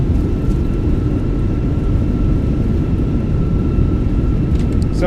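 A JetBlue airliner in a flight simulator roars as its thrust reversers slow it after landing at Boston. The dense, continuous low rumble stays loud and close for several seconds.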